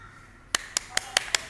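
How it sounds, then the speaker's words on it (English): Students in an online physics class on atmospheric pressure clap for a classmate: after a quiet pause come five sharp, evenly spaced claps, faint and close, in a quick steady rhythm. "Very good. Clap for her."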